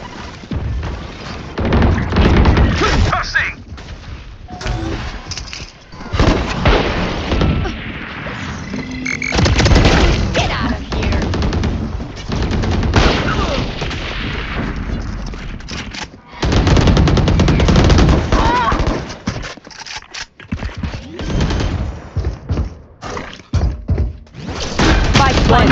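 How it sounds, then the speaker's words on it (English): Gunfire and swarm grenade blasts from the Valorant video game, loud and dense, with rapid bursts and booms repeating through most of the stretch and brief pauses between volleys. "Placing swarm grenade. Watch out! Take this!"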